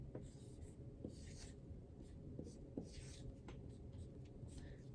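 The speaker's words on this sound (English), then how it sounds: "Let me write it a little bit higher up so I'll have room to do my word problem" A marker or chalk writes an equation on a classroom board in soft, faint scratchy strokes with short pauses, over quiet room tone.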